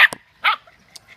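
Standard Schnoodle puppies outdoors give a few short, sharp yips and barks close by, separated by quiet gaps, with a faint whimper.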